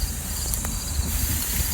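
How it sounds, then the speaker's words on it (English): Steady buzzing of cicadas in a summer outdoor setting, a dense high drone running continuously throughout, moderately loud with no talking. "Those are cicadas."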